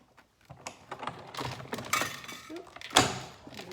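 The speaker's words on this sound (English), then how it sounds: "I'm gonna just cut a piece of Balmy Blue with this" Scissors or a cutter slices through a sheet of Balmy Blue paper at close range, giving a run of crisp snips and crackles that builds to a louder snap near the end, with faint handling noise between cuts.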